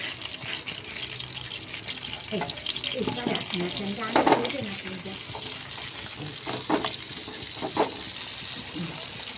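Chopped onion frying in hot oil for a bottle gourd and egg dish, with a steady sizzle, occasional stirring scrapes and louder clattering bursts near the pan throughout.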